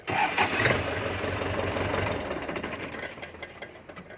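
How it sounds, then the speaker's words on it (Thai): A 59-horsepower farm tractor engine cranks and catches, then runs with a rough, close chugging that settles and thins toward the end. "เครื่องติดสตาร์ทติดง่ายนะครับ เดี๋ยวสตาร์ทให้ดูนะครับ"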